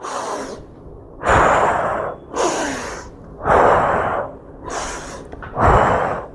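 Loud, close breathing during an exercise session: four or five deep rhythmic inhale-exhale cycles, each a strong breathy rush separated by short pauses, with no talking.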